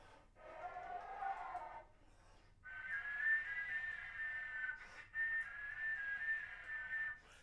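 Two sustained, airy whistle-like harmonic tones from a wind instrument, the second higher and brighter, sounding two octaves up, each held for a couple of seconds with a brief gap between.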